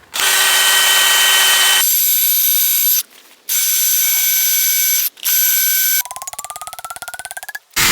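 A power drill bores through a timber fence rail on a farm fence end assembly, in loud steady bursts with short stops between them, ending in a changing pitch as the bit works through.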